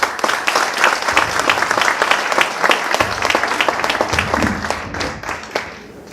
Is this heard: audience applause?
yes